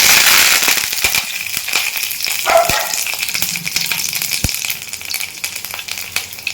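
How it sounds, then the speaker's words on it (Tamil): A sprig of curry leaves spluttering in hot oil alongside cinnamon, cardamom and clove for a dhaba-style chicken gravy, giving off dense crackling with sharp pops scattered through it, close and loud. "கருவேப்பிலை நல்லா பொடிச்சிருச்சு"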